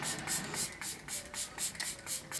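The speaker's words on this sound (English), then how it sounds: "spray." Oil-based face spray misted from a shaken bottle in a few quick, soft, close hissing bursts, with no talking.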